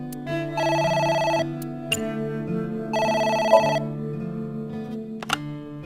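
A telephone rings in the video game AI The Somnium Files, a repeating electronic bell tone in two clear bursts over a steady background music bed, with no talk.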